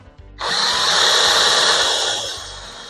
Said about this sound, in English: It'd help if you actually had a sharp drill bit.